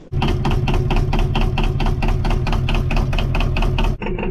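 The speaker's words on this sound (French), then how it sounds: "le moteur tourne bien, hein, vous avez vu" A sailboat's diesel engine runs steadily after an oil change, a loud, close, rhythmic knocking idle that holds for about four seconds before cutting off abruptly.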